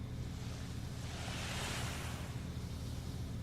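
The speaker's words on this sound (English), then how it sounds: "You're listening to the waves now, each wave coming in gently on the shore" Gentle ocean waves wash in on a shore in a soft, steady hiss, one wave swelling and receding, faint and alone with a low wind rumble.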